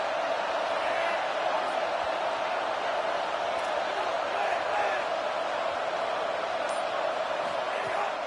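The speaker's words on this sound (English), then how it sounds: "This crowd rising up, sensing that its defense needs some help." A stadium crowd roaring in a college football video game, a dense, steady wall of cheering that stays loud throughout, with a commentator's voice over it.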